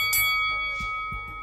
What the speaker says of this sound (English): it's going to be a little bell that you're going to hear now